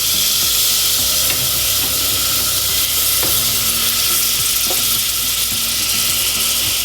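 Butter sizzles loudly and continuously in a hot pot at the start of a garlic soup, a dense hiss with a few faint clicks of a utensil against the pot.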